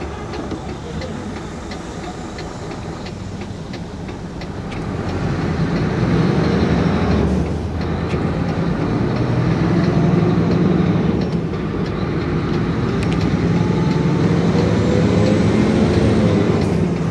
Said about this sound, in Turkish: İşte V motorun sesi.